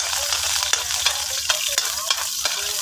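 Onions sizzling in a pan for adobong papaya, stirred with a spatula that scrapes and clatters in steady strokes over a continuous close, loud frying hiss.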